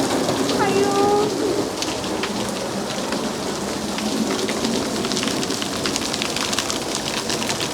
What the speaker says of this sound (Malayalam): കട്ട മഴ